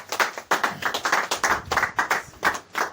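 A congregation claps together in a steady, fairly quick rhythm of bright, crisp hand claps, with no talking over it.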